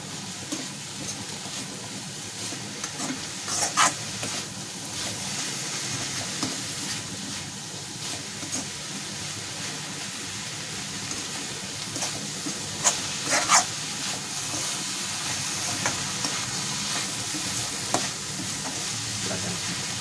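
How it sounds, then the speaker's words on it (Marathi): Dill greens fry in oil with peanuts, giving a loud, continuous sizzle close by, with frequent scraping stirs and occasional sharper clacks throughout. "मस्त शेंगदाणे आणि तेलामध्ये तळून घ्यायची"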